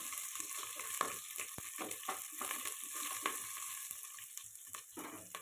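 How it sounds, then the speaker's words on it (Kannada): Garlic, green chillies and curry leaves sizzle in a pan for a fenugreek and dill leaf pulao. The crackle is close and steady, with sharp popping spatters and light stirring clicks throughout and no voices. "ಹಾಗೆಯೇ ಒಂದು 2 ಹಸಿರುಮೆಣಸಿನ್ಕಾಯಿ, ಹಾಗೆಯೇ ಸ್ವಲ್ಪ ಕರಿಬೇವನ್ನು ಸೇರಿಸ್ಕೊಂಡು ಫ್ರೈ ಮಾಡ್ಕೊಳ್ತಿದ್ದೀನಿ"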